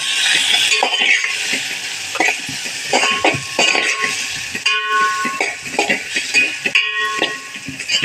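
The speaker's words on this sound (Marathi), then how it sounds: "एक चिमूट हिंग कांदा चांगला परतून घेणार हो." Onion sautéing with turmeric and a pinch of asafoetida in a pan on a gas stove for Marathi moong dal pithla, a steady loud sizzle with clinks and scrapes of a stirring utensil, no talk.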